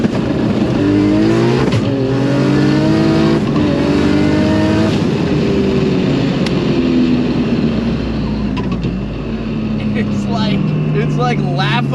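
A 1200HP Mustang running an Australian Barra engine accelerates hard, its loud engine note sweeping up through rising revs and gear changes across the whole stretch, with people talking over it inside the car.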